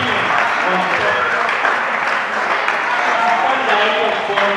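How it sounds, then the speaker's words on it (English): Audience applause at a sports awards gathering at the University of Ghana, a steady dense wash of clapping filling the whole stretch, with voices mixed in underneath. "Please give me a round of applause."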